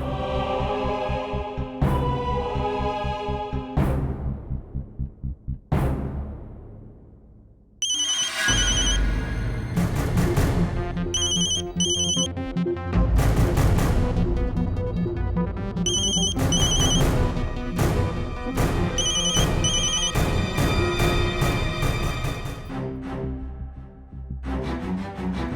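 A phone's ringtone plays as a woman calls her husband, a loud melodic electronic tune with repeated chiming notes and a few short pauses, running alone for about twenty-five seconds.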